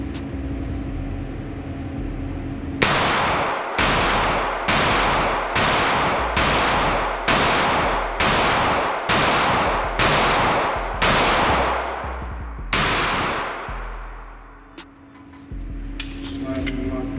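A Springfield Hellcat pistol fires about ten sharp, loud shots at an even, fairly quick pace, followed by a pause and one more shot, then quiet mechanical handling.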